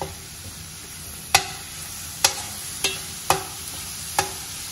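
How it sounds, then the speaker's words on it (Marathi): Ground masala paste being sautéed in a pan for a Maharashtrian mung bean usal, heard as a soft steady sizzle with five sharp spoon clacks against the pan spaced about a second apart. "वाटण आपण 2 मिनिटं परतून घेऊया"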